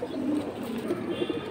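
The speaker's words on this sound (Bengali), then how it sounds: "এটা লাল গিয়ারের সিলভার কবুতর।" A silver pigeon with red eyes cooing steadily and close by, a soft low rolling coo repeated without pause against faint background noise.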